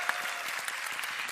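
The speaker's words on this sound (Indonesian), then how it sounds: "Boleh tepuk tangan lagi?" Applause from a crowd at a Jakarta stage event, quite faint and distant, a steady patter of many hands clapping for a brief moment with no voice over it.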